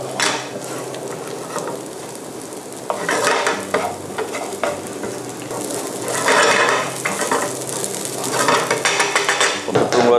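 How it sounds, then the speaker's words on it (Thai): Cooked rice stir-fried in a pan over high heat for Thai green-curry fried rice with snakeskin gourami, a steady loud sizzle broken by repeated scraping and clattering stir strokes, with no talking. "หลังจากนั้นผมเอาข้าวลงผัดเลยผมเร่งไฟให้แรงนะ"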